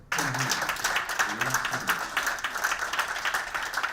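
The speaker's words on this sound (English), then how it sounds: "We got a few claps" A shopping centre audience at the Trafford Centre gives scattered, light clapping, a thin patter of hands that continues for a few seconds with speech mixed in.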